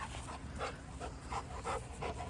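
Dog panting heavily while running around energetically, steady quick breaths repeating close by, with no talking over it.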